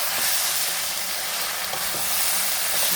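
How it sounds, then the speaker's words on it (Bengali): Cauliflower curry frying in a pan on a gas stove, a continuous bright sizzle with faint scraping as the pieces are stirred, close and steady with no voices. "নেড়ে দিলাম।"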